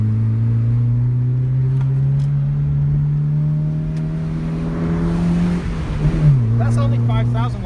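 A 1999 Honda EJ fitted with a pod filter revs up, holding a loud, steady engine drone with an intake growl, then the pitch drops and settles as the revs fall, with brief talk near the end.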